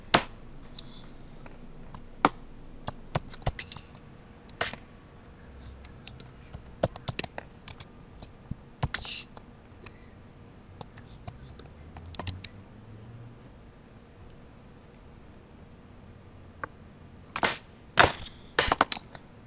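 A password typed on a computer keyboard, with scattered sharp key clicks in irregular bursts, quiet pauses in between and a final quick flurry of taps near the end.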